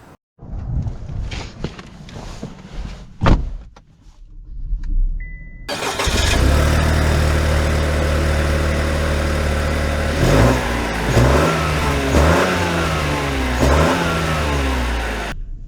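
Footsteps and clunks lead into a Buick Encore GX crossover starting up, then its engine settles into a steady close hum and rises through several revving, accelerating swells as it drives away.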